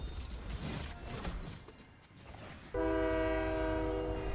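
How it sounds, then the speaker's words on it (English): In the Fortnite video game, a train rumbles closer with clattering wheels, then its horn blasts loud and sustained from about halfway, holding a steady multi-tone chord to the end. "I noticed that the train was coming towards me"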